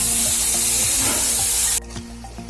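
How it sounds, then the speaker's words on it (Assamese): Onion, ginger, garlic and tomato paste frying with garam masala, a loud close sizzle with stirring clatter that suddenly drops to a quieter bubbling after a couple of seconds. "মছলাখিনি মই আকৌ ইয়াতে গৰম মছলাখিনি দি পেষ্টটো ফ্ৰাই কৰি ল'লোঁ"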